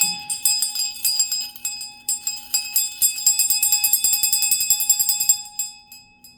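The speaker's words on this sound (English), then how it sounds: "We're gonna ring the bell on that note." A small bell rings in a rapid, continuous series of bright metallic strikes that overlap with one another. The ringing is sustained for about five seconds and then fades.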